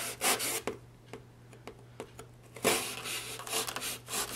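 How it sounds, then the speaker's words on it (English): A blade cuts a hole in a cardboard shadow box with close, rasping scrapes and short rubbing strokes, broken by brief pauses and a louder grinding stretch near the end. "so I can just go ahead and cut me a hole for my eyeball to look through."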